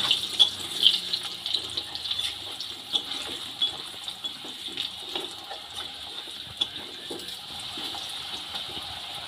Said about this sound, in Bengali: তেলের মধ্যে আলুটা দিয়ে খুব ভালো করে নেড়ে চেড়ে নেব